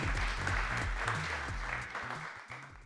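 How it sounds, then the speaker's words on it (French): An audience at a Paris award ceremony for infrastructure trophies claps in a steady, faint round of applause that gradually thins toward the end. "Merci de les applaudir et on va partir."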